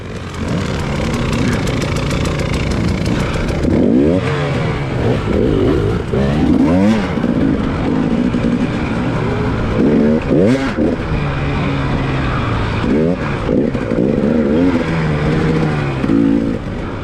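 Dirt bike engines rev and roar continuously at a hare scramble race, loud and close with repeated throttle surges and shifting pitch, while talk runs underneath.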